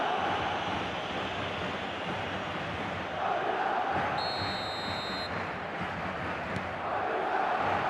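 A stadium crowd in an eFootball match roars and murmurs continuously, with swelling cheers and a brief electronic beep midway, all beneath game commentary.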